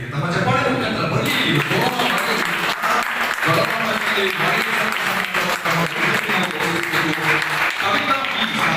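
An audience at a Rotary award ceremony for doctors, teachers and engineers applauds, and the loud, sustained clapping runs throughout with voices or music faintly underneath.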